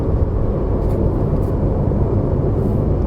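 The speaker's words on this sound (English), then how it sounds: "there's a bit of change in the noise level because the road surface changed to a more coarse surface" A 2021 Perodua Ativa H cruising on a four-lane road with a coarse surface, a steady dense roar of tyre and road noise heard from inside the cabin, constant and unbroken.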